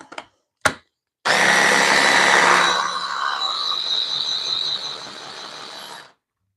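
A blender runs in one sustained burst, chopping a pimento cheese mixture to break up large chunks, loud and steady with a whirring grind that smooths out partway through, preceded by a couple of sharp clicks.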